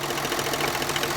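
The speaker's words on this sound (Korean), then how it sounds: "시동이 걸려 있는 상태에서 엔진 오일 캡을 열어요." Idling used diesel car engine with its oil filler cap removed, a loud, continuous rough rumble with dense mechanical clatter, close up and unbroken.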